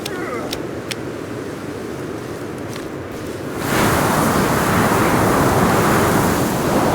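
Loud wind gusting through a Sons of the Forest game world; a steady breeze swells sharply partway through into a roaring, broadband rush that fills the rest of the clip, with faint clicks earlier.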